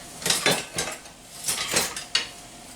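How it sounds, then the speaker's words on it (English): All-purpose flour being whisked in a bowl, a few bursts of brisk metal scraping and clinking against the sides, close and fairly loud, with short pauses between strokes. "just going to give this guy a whisk"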